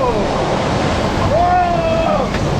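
Water rushes and splashes around riders on a Bilge Rat Barges raft ride at Universal Florida, a steady loud wash with wind buffeting the microphone and a brief squeal or shout midway.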